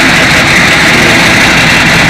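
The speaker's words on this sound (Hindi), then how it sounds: "तो अभी हम इसको सेल्फ उतनी देर के लिए लगवाएंगे जितनी देर ये स्टार्ट नहीं हो जाता।" A Shindaiwa 400DM-KAH generator and dual welding plant engine runs loud and close. It gives a steady, unbroken diesel roar with no pauses or talking.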